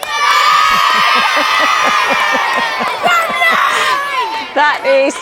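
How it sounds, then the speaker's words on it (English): A large crowd cheers and shouts loudly, voices of many children and adults roaring together, with whoops rising at the end. "That's one heck of a cheer."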